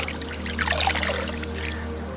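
Leafy greens being rinsed in water to clear soil and small stones, a close splashing and trickling pour with brief bursts of sloshing.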